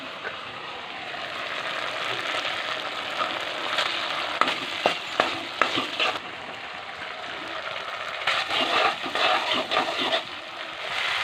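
Tomatoes fry with garam masala and other spices for a fish head curry, giving a loud steady sizzle with bursts of spatula scraping and stirring toward the middle and end.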